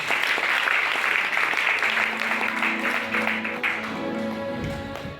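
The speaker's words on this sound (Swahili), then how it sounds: "Pige Yesu makofi" Church congregation clapping for Jesus during a Swahili sermon, a dense, steady wash of applause throughout, with faint musical tones underneath toward the end.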